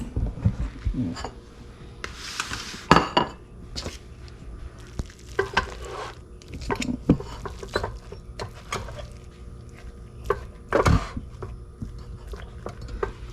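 A spoon scrapes and clinks in a big pot and bowl while Cajun gumbo with deer sausage and rice is dished up, making irregular knocks, scrapes and soft wet stirring sounds at close range.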